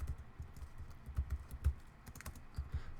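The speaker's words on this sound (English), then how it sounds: "you can right click or hit rename, or you can hit Command R, and then I can type this stuff in." Rapid, uneven typing on a computer keyboard to rename an item in Ableton Live, with soft close keystrokes clattering for a few seconds and no talk.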